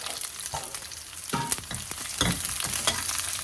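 Garlic, cut small onions and curry leaves fry in hot oil with a continuous close sizzle, broken by several bursts of sharper crackling and spatter as ingredients go in and are stirred.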